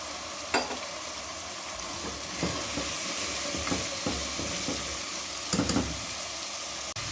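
Cauliflower fries with masala in a pan for a gobi sabzi, a steady close sizzle punctuated by several scraping stirs of a spoon against the pan.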